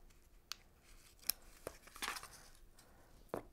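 Scissors snip across wrapped knitting yarn in a handful of short, quiet cuts spaced irregularly, with soft crisp clicks between them and no talk.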